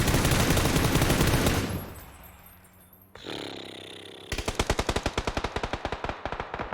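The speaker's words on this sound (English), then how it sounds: "These shots that have been going on for Northern Lights, the Penguins are driving towards them" Gunfire in the battle royale video game PUBG: a dense roar of sustained automatic fire, a brief quieter lull, then a rapid, evenly spaced burst of loud shots, with no talk.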